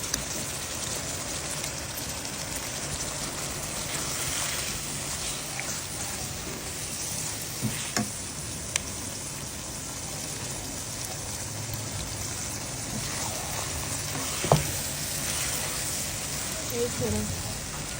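Tomatoes go into keema frying in a pan for a Pakistani keema aloo matar, giving a steady close hiss of sizzling throughout with a few small clicks and pops, and a faint voice now and then.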